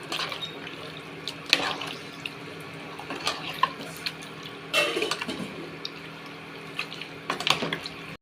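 Water pours into a pressure cooker for chicken curry, a soft uneven splashing and trickling in a kitchen with a few louder gushes and small clinks, close and moderately quiet, without speech.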